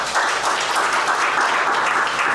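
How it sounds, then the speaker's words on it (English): A live audience applauds a startup panelist at an innovation center event, a dense, steady wash of clapping that stays loud and even from start to finish, with no voices over it. "let's give Joe a round of applause."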